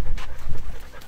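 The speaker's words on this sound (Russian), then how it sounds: "со мной снимается моя собака Лаки" A dog pants close by in quick, rhythmic breaths, loud and steady with faint whimpering tones, no talking over it.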